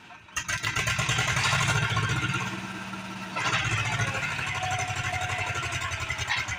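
A tractor stuck in the ground runs its engine hard, rising to a loud, rough roar, dipping briefly, then revving again with a steady chugging pulse, close and continuous.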